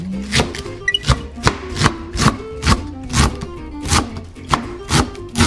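Knife chopping shredded cabbage into short lengths on a cutting board, a steady series of about a dozen crisp, evenly spaced thwacks, loud and close, with no talking.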